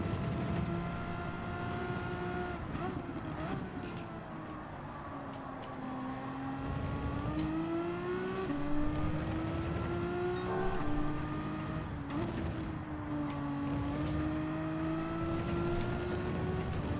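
Renault race car engine in Gran Turismo 7 at Brands Hatch, a sustained near revving whine climbing through the gears with repeated upshifts and dips, running steadily throughout with no talking.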